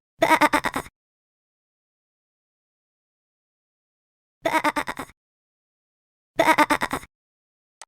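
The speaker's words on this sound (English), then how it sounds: "Sheep." Three separate short bleats of a sheep with quiet pauses between them, each a brief wavering cry, clear and close.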